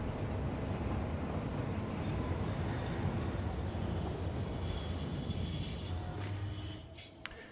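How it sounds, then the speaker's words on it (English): A train in the factory-building game Satisfactory runs steadily along its rails with a continuous rolling rumble and wheel noise, fading slightly near the end. A brief faint squeal comes through as it goes. "the train over here is on too much of an incline for it to actually stop properly at the intersection"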